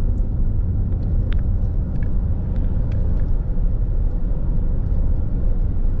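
A 1996 Buick Regal with about 7,500 miles rolls along smoothly, its cabin filled with a steady low road and engine rumble, plus a few faint clicks over the constant drone.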